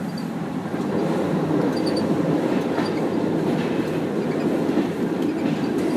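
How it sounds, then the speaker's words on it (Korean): Steady rumble and rhythmic clickety-clack of a Czech train rolling along the tracks, heard from inside the carriage, a continuous dense wash of wheel and rail noise with no voices. "기차, 체코 기차고요"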